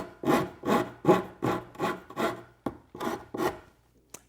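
Hand rasp shaping a wooden edge into a smooth curve, about nine firm rhythmic rasping strokes close up, each a gritty scrape with brief pauses between, ending in a couple of light taps.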